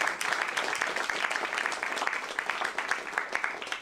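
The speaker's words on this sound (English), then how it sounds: "So let's give them a round of applause." Steady applause from an audience fills the whole stretch, many hands clapping at an even, sustained level with no voices on top.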